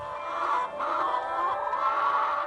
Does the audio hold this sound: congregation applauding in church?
no